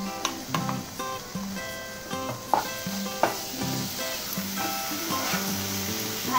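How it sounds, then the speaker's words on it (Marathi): Marathi tempering of whole spices sizzling in hot oil for a Malvani white peas usal, with steady frying hiss and repeated stirring scrapes of a spoon against the pan, close and continuous. "मसाले ढवळून आपले छान झाले आहेत, खमंग अशी फोडणी पडली आपली।"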